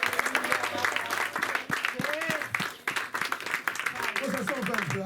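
A church congregation at a French-language service claps and cheers loudly and irregularly, with voices shouting and singing over the applause throughout.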